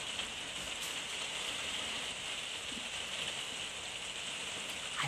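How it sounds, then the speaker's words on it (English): Rain patters outside as a steady, faint, even hiss heard from indoors, with no talking over it. "Can you hear the rain? I don't know if it's loud enough for you to hear it, but my goodness, pitter patter today."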